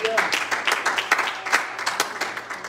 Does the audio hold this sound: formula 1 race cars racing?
no